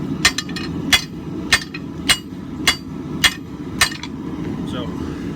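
Hand hammer forging a steel hammer eye drift at an anvil, seven sharp ringing blows in a steady rhythm roughly every half second, loud and close over a constant low shop rumble.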